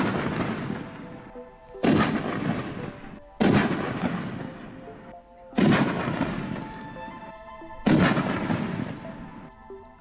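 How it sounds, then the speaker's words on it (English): Let Freedom Ring canister firework shells from Raccoon Fireworks launch in four loud, sharp booms roughly two seconds apart, each followed by a crackling, rumbling tail that fades before the next blast; no voices. "I showcase to you guys right now Let Freedom Ring from Raccoon Fireworks."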